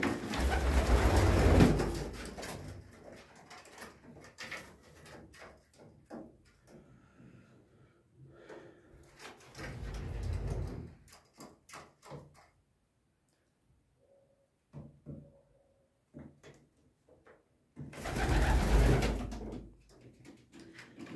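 Bursts of pigeon cooing at moderate volume, loudest at the start, around ten seconds and near the end, with quieter rustling and clatter in between.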